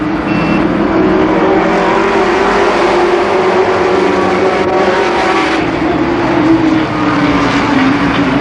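Stock cars race at Columbus Motor Speedway during the 1990 Nuckles Memorial, a loud, continuous roar of several engines whose pitch rises and sags slightly as the pack passes.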